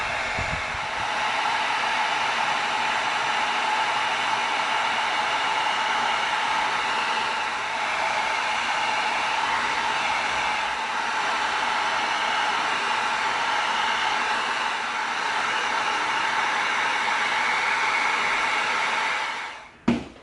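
A heat gun blows steadily on EVA foam to tighten and shape it for a cosplay prop, a continuous loud hiss of rushing hot air held for about twenty seconds before cutting off abruptly.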